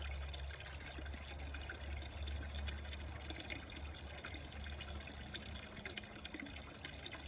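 Steady trickle of water flowing through a vertical NFT aquaponics pipe, a faint continuous liquid rush with low hum underneath and no talk.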